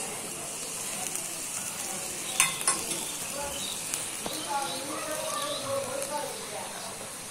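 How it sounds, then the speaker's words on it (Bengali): An egg and potato curry sizzles in a pan while a spoon stirs it, giving a steady frying hiss with a few light scrapes and clinks. Faint speech can be heard in the background. "এখন একটু ভালো করে নাড়াচাড়া করে নিতেছি।"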